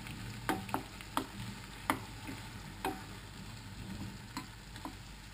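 Golden turnips with orange juice reducing in a pan, a soft low sizzle broken by several sharp clicks and scrapes of a utensil stirring, fairly quiet and with no talk.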